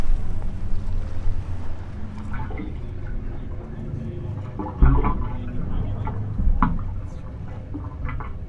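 Water sloshing and moving near a microphone in San Francisco, a steady low wash with a couple of louder surges, heard alone without talk.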